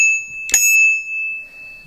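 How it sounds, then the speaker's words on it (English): A single bright ring of the bell on a Jetson Bolt electric bike, struck once with a sharp metallic ping that lingers as a sustained clear tone, close and alone. "It has a bell."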